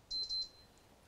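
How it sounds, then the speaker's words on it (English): A small electronic beep sounds in a quiet room, several short high pips in a quick burst and then one more a moment later, faint and on its own. "Okay, so we have some little beep there."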